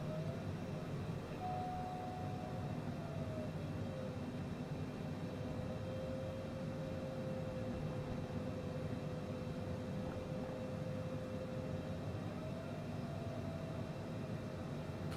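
A Cessna Citation CJ4 business jet taxis in a flight simulator game, its engines giving a steady, even whine and broadband rush with a faint tonal hum drifting in pitch, continuous and without talk.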